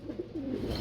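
Caged pigeons, blue barless birds kept for sale, give low soft coos, faint and close, in a short quiet stretch with no talking.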